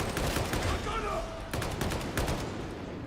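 An enemy gunner in Warhammer 40,000: Darktide fires sustained automatic bursts that fill the whole stretch, loud and dense, with brief breaks between volleys and faint game noise underneath.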